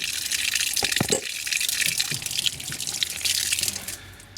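Water gushes steadily from an outside garden tap, loud and close, with a few sharp splashes and gurgles near the start, then a continuous rushing flow that fades slightly at the end.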